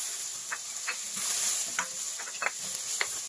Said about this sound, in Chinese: 再放入青红椒圈炒熟。